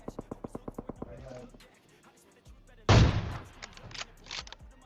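AWM sniper rifle shot in a video game, a single loud blast with a short rumbling tail following a run of rhythmic clicks; no speech.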